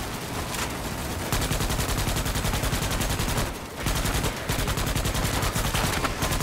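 Sustained rapid automatic gunfire in the Starship Troopers Extermination video game, dense and loud, with a couple of short breaks before the firing resumes.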